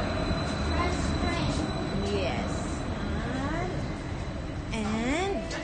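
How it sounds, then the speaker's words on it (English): Low rumble of a train arriving at a station in Bergen, Norway, fills the background while voices, including a child's, talk excitedly over it. "The train is coming."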